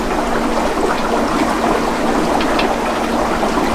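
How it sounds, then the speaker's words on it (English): Water carrying new fish pours gently out of a cut-open shipping bag during pond fish quarantine, making a steady, continuous splashing trickle that runs unbroken and close by, with no voices. "gently pour out."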